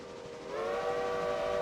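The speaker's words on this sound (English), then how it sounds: "I changed the whistles on 2 of my 3 locomotives" A steam locomotive whistle from the train game Railroader sounds a sustained tonal chord, rising in loudness after a brief quiet start and holding steady, with no voices.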